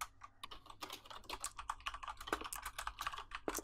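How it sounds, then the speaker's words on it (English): Rapid, furious typing on a computer keyboard during a Clue board game night: dense, irregular clatter of keystrokes, close and moderately loud, with no talking. "We're all typing furiously here."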